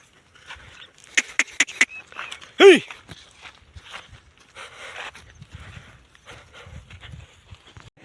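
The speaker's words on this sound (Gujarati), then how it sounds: "તો બળદ ગાડી જોડી લીધી છે ને હવે ઉપડ્યા ઘેરે" A few sharp clopping hoof beats of bullocks hitched to a cart in quick succession, then a brief animal call, followed by scattered softer knocks and shuffling at a moderate distance.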